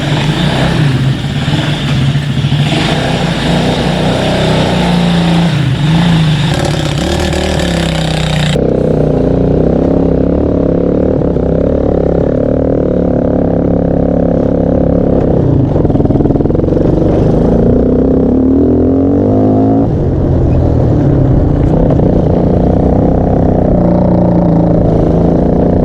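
A Chinese ATV engine fed nitrous revs hard and steadily for the whole stretch, loud and close. The pitch shifts as it climbs and drops, with no talking over it.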